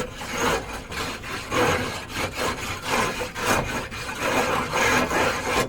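A soapstone scrapes a Weber grill grate clean with a steady, loud back-and-forth rasping that repeats roughly every half second, close up and continuous, with no talking.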